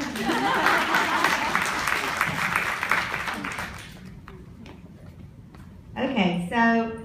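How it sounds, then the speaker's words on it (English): An audience breaks into applause, a dense wash of clapping that fades out, and then a voice speaks near the end. "Applause."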